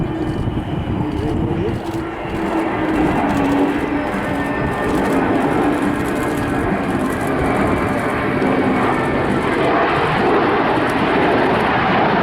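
A C-17 transport jet makes a final low pass at the Royal International Air Tattoo air show, a loud, sustained, rumbling engine roar that swells slightly and holds for the whole stretch.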